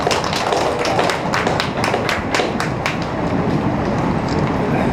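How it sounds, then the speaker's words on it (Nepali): Audience applause at a Krishna Pranami temple ceremony in Itahari, a dense, steady patter of many hands clapping with sharper individual claps standing out throughout. "ताली, कृपया ताली बजाइदिनु होला।"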